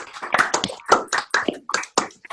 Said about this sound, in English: We're all going to do a round of applause for our speakers so we can all hear it.